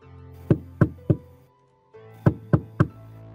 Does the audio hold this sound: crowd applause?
no